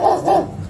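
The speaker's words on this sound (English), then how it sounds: "That's my neighbor's dog." A neighbor's dog gives two quick barks in a row, fairly loud and close, with no talking over them.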